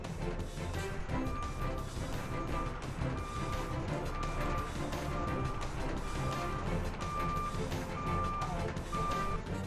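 An autonomous vehicle on the 2007 DARPA Urban Challenge course reverses while parking, giving off a steady run of evenly spaced electronic beeps over a loud, dense wash of engine and crowd noise.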